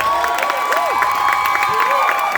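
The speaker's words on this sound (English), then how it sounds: "give him a round of applause" Keynote audience at a content creators' conference in Atlanta applauding and cheering, a steady dense roar of claps and shouts filling the hall, with a whistle-like tone sliding through it.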